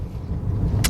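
A car with a 1ZZ-FE engine on a road test gives a steady low rumble of engine and road noise from inside the cabin, with a brief higher hiss near the end.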